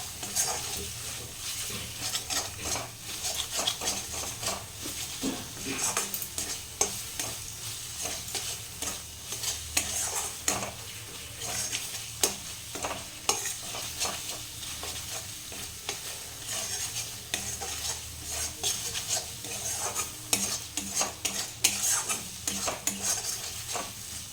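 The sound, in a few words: stirring and frying spice paste in a pan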